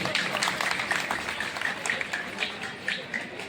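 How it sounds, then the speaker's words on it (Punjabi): Applause from an audience at a government senior secondary school event in Kala Sanghian, Kapurthala, a dense steady patter of many hands clapping that carries on for the whole stretch, slowly easing toward the end. "ਆਪਾਂ ਸਾਰੇ ਨਾਲ ਮਿਲ ਕੇ ਜ਼ੋਰਦਾਰ ਤਾੜੀ ਮਾਰੀਏ"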